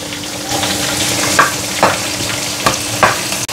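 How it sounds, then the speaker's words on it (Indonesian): Long beans stir-fried with onion in a hot pan sizzle steadily up close, with a spatula scraping the pan in several distinct strokes at roughly half-second intervals. "Jadi di sini saya mau tumis kacang panjang."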